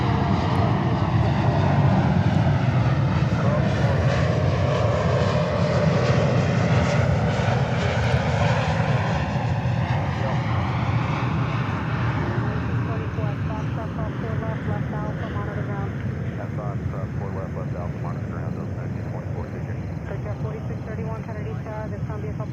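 A Frontier Airbus A321neo from Tampa arrives at JFK, its loud, steady jet roar filling the air and sweeping slowly downward in pitch as it passes, continuous and close.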